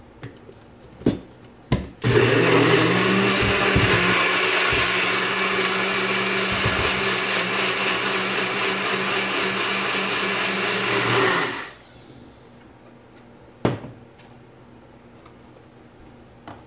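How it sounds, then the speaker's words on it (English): A NutriBullet blender grinds herbs and garlic with water, starting with a couple of clicks, then a loud, steady motor whir for about nine seconds before it cuts off, followed by a few sharp knocks in a quiet kitchen. "just so the NutriBullet grinds it up really good"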